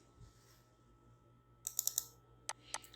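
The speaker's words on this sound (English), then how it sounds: "if I double click on the x" Computer mouse clicking in MATLAB, faint and close: a quick cluster of crisp clicks, then a separate pair of sharp clicks a moment later, over a quiet room hum.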